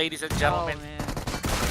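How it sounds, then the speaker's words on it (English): Gunfire in a PUBG Mobile pro tournament match rattles in quick bursts, loud and close, mixed under an excited English caster's commentary. "There's also a bit of gunfire coming off of Talon"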